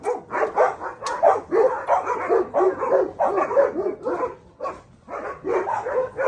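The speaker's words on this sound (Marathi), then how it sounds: "हे बघा माझा डॉग तिथे सोडला चाललेला आहे." Pet dog at a dog house barks repeatedly in quick bursts, loud and close, with a brief pause near the end before the barking resumes.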